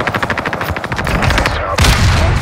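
Rapid automatic gunfire from the game Call of Duty Warzone, a fast rattling burst of shots followed by a sharper crack and sustained loud firing, with faint voices underneath.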